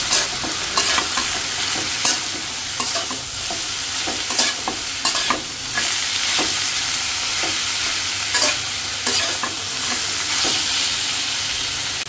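Prawns and fish frying in hot oil, a steady loud sizzle with repeated scraping stirs and clinks of a spatula throughout, no voices.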